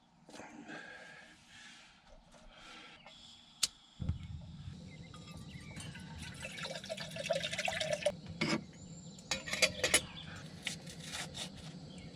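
Hot water pours into a cup for instant coffee from an MRE at a truck camp, a soft steady liquid stream after a brief clatter, with a few drips and light handling noises.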